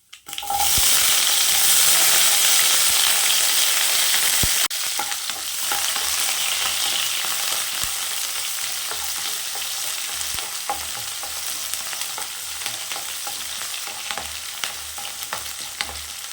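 Mustard seeds, urad dal and shallots hit hot oil for a coconut gravy, starting with a loud, dense burst of sizzling that drops after a sharp knock, then a steady crackling fry with faint stirring ticks.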